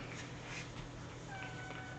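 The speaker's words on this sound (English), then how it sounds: "She's such a uniquely colored cat." A cat with unusual coloring lets out faint, soft meows against a steady low background hum, with no talking.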